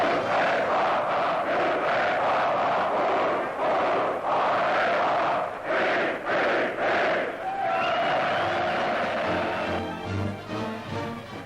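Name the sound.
crowd of 35,000 cheering at Army-Navy football game, Sydney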